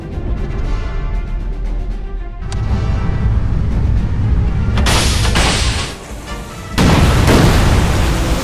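Torpedo explosions in the WW2 naval strategy game Order of Battle, heavy booming blasts rolling into one another, loud and close, with sharper bursts near the middle and end.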